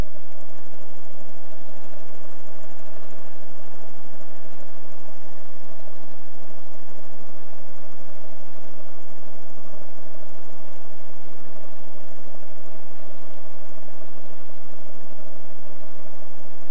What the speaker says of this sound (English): Now the machine sews backwards and forwards until it covers the previous stitching. then ties off and stops.